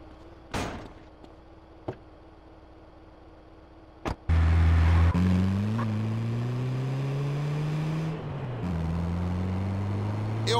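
Car driven in the video game Grand Theft Auto: The Trilogy – The Definitive Edition, a few sharp knocks and a door slam, then a loud engine starts and revs, rising in pitch through gear shifts.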